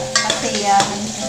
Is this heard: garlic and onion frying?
yes